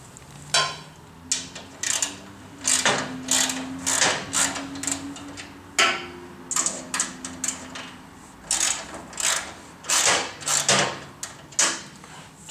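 Bolts on a Ridgid R4512 10-inch table saw's extension table are loosened by hand tool, a series of close, sharp ratcheting and tapping bursts in irregular clusters, alone without talk.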